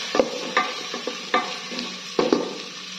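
Chopped onion sautéed in an electric cooker, with close, distinct spatula scrapes and taps against the pot coming in a loose rhythm over a light background sizzle.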